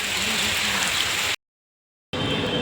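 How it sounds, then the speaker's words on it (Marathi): Heavy rain pours down in a dense, steady hiss, broken by a brief moment of silence before the downpour resumes. "कसला जोरात पाऊस येत आहे"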